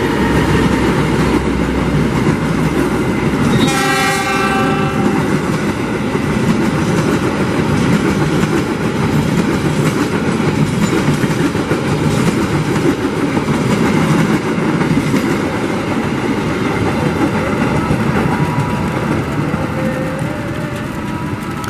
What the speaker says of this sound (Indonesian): Kereta api Bangunkarta melintas langsung stasiun Cibatu mengarah ke Bandung